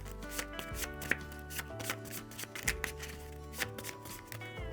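A scavenge card deck for the Shadows of Brimstone board game is shuffled, giving soft riffling and tapping sounds with irregular sharp clicks, heard under prominent background music.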